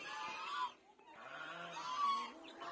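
Ducklings eating ants call in a continuous run of reedy, honking peeps, two bursts separated by a short pause, close and fairly loud with no talking.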